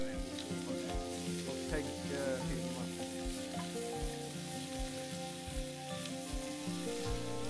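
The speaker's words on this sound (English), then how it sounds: "making room for the griddle on the fire pit, so we could fry tomatoes, sausage, black pudding and bacon for breakfast" Tomatoes, sausage, black pudding and bacon fry on a griddle over a winter forest fire pit, giving a steady, close crackling sizzle that runs unbroken throughout.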